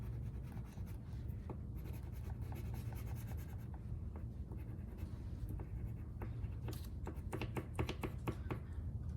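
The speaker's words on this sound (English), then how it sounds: "So taking your white crayon, make sure you color around" White wax crayon scribbling on paper around the tail of a fox craft, a steady close scratchy rubbing that continues evenly throughout without pause, faint and dry.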